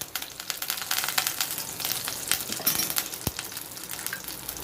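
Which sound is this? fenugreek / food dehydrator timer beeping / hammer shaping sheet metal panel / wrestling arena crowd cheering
fenugreek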